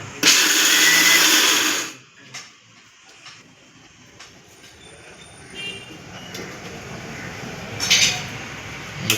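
A kitchen mixer grinder runs with a loud, harsh whir for about two seconds, then stops, leaving quiet room sounds and a few light clicks and clatters.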